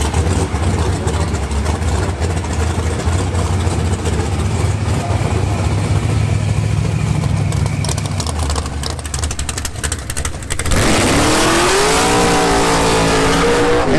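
Drag racing cars at the starting line of a spring drag event at Galot, loud idling and revving engines that build, then burst into a roaring full-throttle launch.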